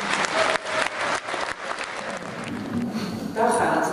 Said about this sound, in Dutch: En graag vraag ik dan ook een warm applaus voor Willem en zijn makkers.